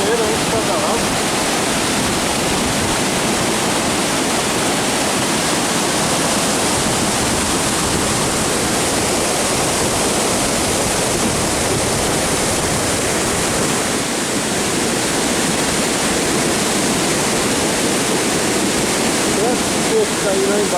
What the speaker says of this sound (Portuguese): Cachoeira aí de cada lado.